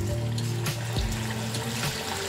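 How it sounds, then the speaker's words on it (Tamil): Pieces of chicken for lemon chicken deep fry in hot oil, giving a steady low sizzle and bubbling close by, with a few soft knocks and no talking. "இதில் ஆட் பண்ணி நல்லா டீப் ஃப்ரை பண்ணி எடுத்துக்கலாம்"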